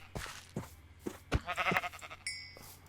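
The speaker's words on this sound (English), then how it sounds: "I'm just going to go ahead and like kill my sheep" Sheep in the video game Minecraft bleat several times in short, separate calls over about three seconds, fairly close and clear, with a brief electronic chime near the end.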